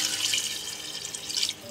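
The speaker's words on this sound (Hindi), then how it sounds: "अब इसमें 2 से 3 ग्लास पानी डाल देंगे" Water pours steadily from a glass into a pot of mutton being cooked for bhuna gosht, a brief close splashing rush that cuts off near the end.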